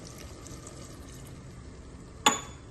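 A glass of water is poured into simmering lentils with chopped ridge gourd, a steady soft wash of liquid ending in a short, sharper splash or clink.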